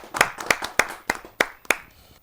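Audience members at a Hindi poetry gathering clap in six distinct, evenly spaced sharp claps, close and crisp against a quiet room.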